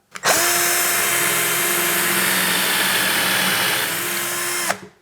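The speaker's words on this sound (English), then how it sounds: "If we just put your timber in here and rest him in there, we'll get nice central holes" A handheld power drill bores holes in timber with the bit steadied in a Milescraft Drill Mate guide; a loud, steady whining motor runs close up for about four and a half seconds, then spins down.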